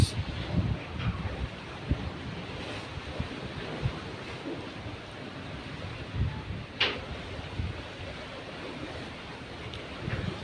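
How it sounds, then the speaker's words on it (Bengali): Strong wind blowing across a ship's deck: a constant, loud, rumbling roar with gusty microphone buffeting and a few faint knocks, with no talk. "আসলে এই বাতাস অনেক"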